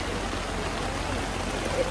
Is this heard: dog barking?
no